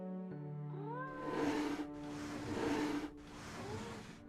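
A cat meows in the Nancy Drew video game Mystery of the Seven Keys, a few drawn-out, rising cries repeated in a steady series over soft ambient game music, close and fairly loud.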